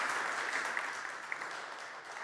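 Crowd applauding at a church-style talk after news of a couple's 40th wedding anniversary: a continuous, dense patter of many hands clapping at even volume for the whole stretch, with no speech.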